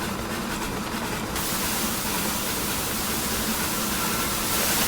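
Steady roaring rumble of a train engine running in the Steam and Steel video game, a dense continuous noise that thickens and brightens after the first second and holds loud to the end.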